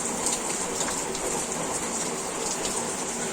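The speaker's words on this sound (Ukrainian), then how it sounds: "але вже зараз дощ почався" Steady rain falls right after a hailstorm over a rural Ukrainian yard and cornfield, a dense continuous hiss of drops on surfaces, fairly loud and even, with no talking.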